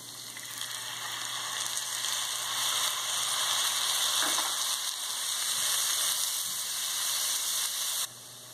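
Bacon and grated onion sauté in a pot with a steady, close, loud hiss-sizzle that runs unbroken for about eight seconds before dropping off abruptly.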